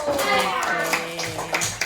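A class of schoolchildren claps their hands with their teacher in a short, quick burst of mixed claps, heard under ongoing voices in the room.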